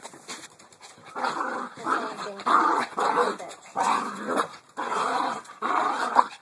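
A dog growls low and close in a series of rumbling bursts, about seven in a row with short gaps between them, and no talk over them.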